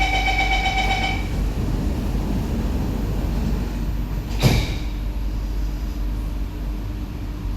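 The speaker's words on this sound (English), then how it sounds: "Doors are closing." SMRT C151B metro train doors closing, with a short chime, then a soft sliding thump amid the steady hum and rumble of the train interior.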